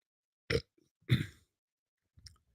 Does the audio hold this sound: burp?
yes